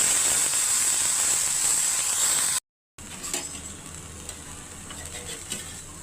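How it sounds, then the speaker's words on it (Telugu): Brinjals frying in an oiled pan give a loud, steady sizzle up close, with a brief gap partway and occasional faint utensil clatter afterward. "తొందరగా వేగిపోతాయి వంకాయలు."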